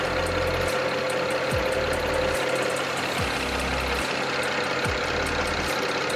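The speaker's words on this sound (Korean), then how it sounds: "엔진 소리 일정하고 좋습니다" A BMW 740Li engine idles steadily close by with a constant low rumble and a faint rhythmic ticking, no voices.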